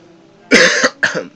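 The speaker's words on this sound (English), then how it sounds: "getting that cough" Two sharp coughs close to the listener, one right after the other, loud and harsh with a brief pause between.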